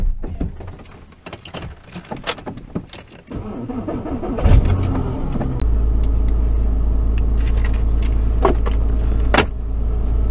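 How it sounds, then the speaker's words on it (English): A Porsche car is unlocked with jangling keys, then the engine starts and settles into a steady low rumble, with clicks and handling noises over the idle. "Just can't get enough of driving this Porsche"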